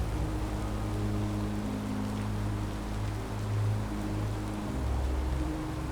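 Gentle rain falls steadily, a soft, even wash of drops with a low rumble underneath and no voices.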